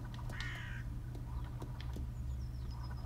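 A crow in the video game Toem gives a short caw over a constant low hum of game music, with a few faint clicks and chirps around it.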